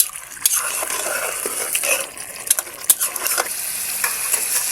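Chicken pieces for biryani are stirred in a hot pot, loud continuous sizzling and frying broken by scraping spoon strokes and clinks of metal against the pot.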